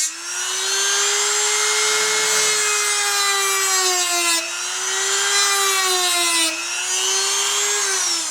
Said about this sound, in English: I got a lot of metal to take off, so I'm going to start out with my Dremel.